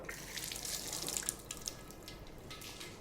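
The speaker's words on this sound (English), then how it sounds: "now I'm going to give it a bit of a wash." A whole pineapple rinsed under a running kitchen tap, a steady close hiss of water with splashes and drips as the fruit is turned, with no speech over it.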